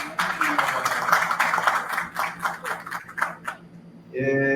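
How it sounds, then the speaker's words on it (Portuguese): An audience at a morning academic session gives a round of applause, a dense clatter that thins into scattered individual claps and fades out, after which a voice begins. "a quem damos uma salva de palmas"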